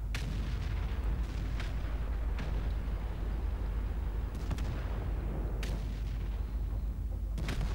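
Tank cannon fire in the online battle game World of Tanks, several booming shots spaced over a constant loud rumble of engine and battle noise, with no speech.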